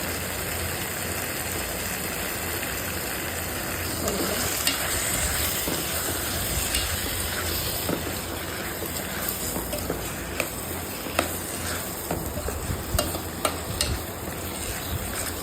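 Turmeric fries in oil in a pan for a banana and tomato curry, a steady broadband sizzle with occasional stirring scrapes, close and continuous without talk.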